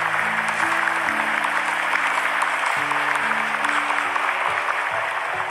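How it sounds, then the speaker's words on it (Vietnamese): A temple audience claps steadily for a Buddhist monk after his talk on bodhicitta, a dense, continuous round of applause held at an even level throughout, with a low musical drone or hum running underneath. "Có nhất trí thì cho thầy một tràng pháo tay."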